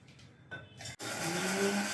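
A mixer grinder jar whirring as it purees browned onion and tomato masala, the motor kicking in after a brief pause and then running loud and steady with a whining hum for the rest of the moment.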